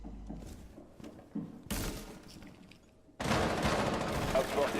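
Gunfire in the tactical shooter game Rainbow Six Siege, with bursts of rapid shots that grow loud and dense toward the end, mixed with game effects and voices talking over the action.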